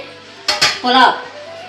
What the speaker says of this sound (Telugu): ఇదిగో నేను గిన్నె పెట్టేసుకున్నాను